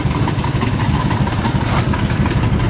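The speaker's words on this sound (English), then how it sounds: "Sitting here idling in park, around 800 RPMs, 700-800 RPMs." A 1974 car's engine idling in park at around 700-800 RPM; a loud, close, steady low rumble with an even throb throughout, no talk.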